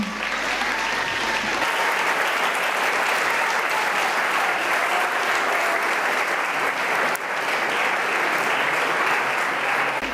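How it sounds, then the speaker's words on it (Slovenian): Strong, steady applause from an audience thanking the parents at a school event for Rožman school, a dense clapping wash filling the whole stretch without pause. "Zato močen aplavz tudi za starše."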